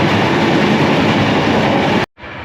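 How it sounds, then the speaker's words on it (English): Loud, dense rumbling and rattling of a moving Trenitalia Intercity train, heard while crossing between cars, fills the space, then cuts off abruptly into a much quieter hum. "this is one example of the train being noisy"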